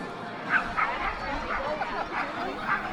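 Dogs at an outdoor dog adoption event bark and yip in scattered bursts among a crowd murmur, with people talking throughout.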